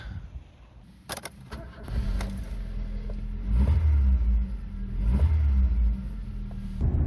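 A 1993 Rover 420 GSi saloon starts after a few clicks and settles into a low rumbling idle, then revs in two swells as the car pulls away.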